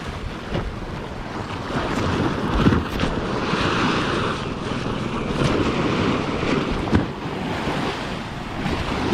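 Sea waves surge and splash steadily on Phala Beach in Ban Chang, Rayong, Thailand, a broad continuous wash of surf with wind buffeting the microphone and a few sharper splashes close by.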